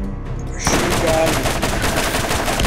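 Rapid automatic weapon fire in the shooter game Borderlands starts abruptly after a short lull. The shots hammer on loud and continuous for a couple of seconds.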